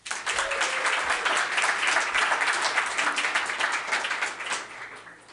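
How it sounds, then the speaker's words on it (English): An audience at a storytelling show applauds a storyteller, a full, dense round of clapping that swells quickly and holds for about five seconds before tapering off. "let's give another round of applause for Jen"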